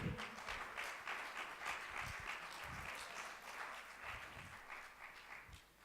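Warm applause from the crowd at a gathering of evangelists and pastors greets a speaker, dense steady clapping filling the room for several seconds without a break.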